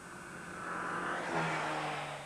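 A 1997 Mercedes-Benz A-Class swerves through a tight 13.5-meter elk-test lane change, its engine whirring and rising steadily as the car sweeps through the maneuver, with no voices.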